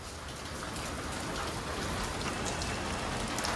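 Steady, dense rain pours down outdoors, a loud continuous hiss of drops hitting surfaces with no voices over it.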